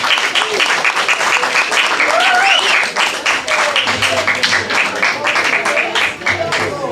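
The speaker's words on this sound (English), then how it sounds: "Everybody clap it up for him." Audience at an open mic night in a gallery brew house clapping steadily for a performer, a dense, even applause running throughout with voices mixed in.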